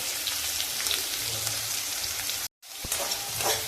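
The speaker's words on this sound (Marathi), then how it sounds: "आता बारीक चिरलेला कांदा टाकते। कांदा हा चांगला परतून घेते।" Chopped onion and curry leaves sauté in a pan for gavar sukki bhaji, giving a continuous crackling sizzle. A brief gap cuts the sound near the end before the frying resumes with a few sharper pops.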